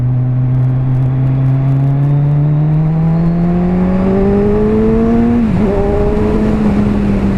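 A 2017 Kawasaki Z1000 motorcycle engine on a test ride pulls hard in second gear, its loud steady drone rising smoothly in pitch, briefly dipping at a shift-like blip, then climbing again, with constant wind rush.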